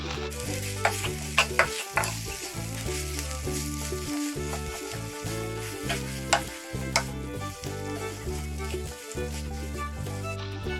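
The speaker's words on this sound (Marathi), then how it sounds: "यात टाकूया आपण थोडी हळद आपण बारीक करून घेतलेले सारण टाकून घेऊया याला एकत्र करून घेऊया" A spoon stirs a ground green coriander filling with turmeric in a sizzling pan, producing steady scraping strokes over a continuous fry, moderately close with no talking.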